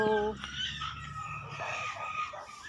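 A rooster crows with a long rising call, close and loud, followed by scattered clucking and background chatter from people nearby.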